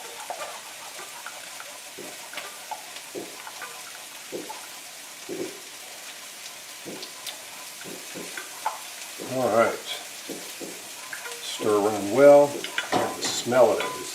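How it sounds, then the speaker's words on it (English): Garlic, Swiss chard and Bala mushrooms fry in olive oil with a steady low sizzle and scattered stirring clicks, joined near the end by a voice talking over the pan. "my garlic and Swiss chard Bala mushroom stir fry"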